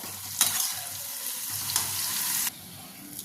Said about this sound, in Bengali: দেখো আমাদের উচ্ছেটা ভাজা হয়ে গেছে